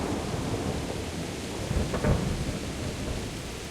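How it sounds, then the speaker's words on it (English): Steady heavy rain in Kingdom Come Deliverance, with a low thunder rumble swelling near the two-second mark before fading back into the constant downpour. "This rain's really loud."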